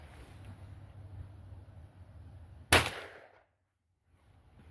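A single sharp .308 Winchester rifle shot fired with a subsonic Trail Boss load at an outdoor range, a sudden crack with a short decaying tail over faint wind noise, then near silence.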